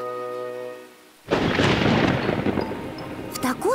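A thunderclap in a children's cartoon thunderstorm, a loud broadband boom that crashes in after a quiet stretch of music and rumbles on, with a brief vocal sound at the end.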